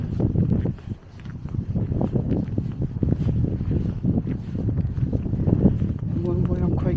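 Gusty outdoor wind buffets the microphone as a rumbling low roar through a walk on a cloudy hillside, with a voice talking over it throughout.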